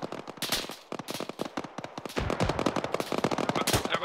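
Rapid automatic gunfire in an ArmA 3 battle, dense bursts of sharp cracks firing in quick succession, loud and close, with heavier shots near the end.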